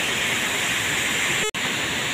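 Constant broadband roar of a tall waterfall at the Nglumut Sabo dam in Magelang, heard from close below, steady and loud with one brief dropout.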